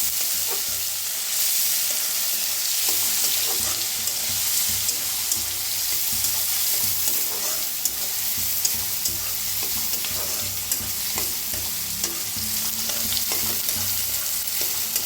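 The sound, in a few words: frying chopped onion with asafoetida in a pan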